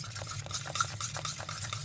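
A spoon or whisk stirs thick homemade custard in a pan just taken off the heat, a steady run of soft scraping and sloshing strokes, close and fairly quiet, with no voices.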